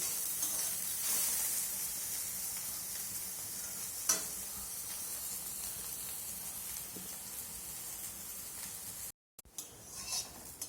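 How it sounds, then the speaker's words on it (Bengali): Bitter gourd fries in refined oil in a pan, giving a steady, soft, high sizzle throughout with a single light clink of stirring. "আমি করলাটা ঠিক এইভাবে ভেজে নিয়েছি"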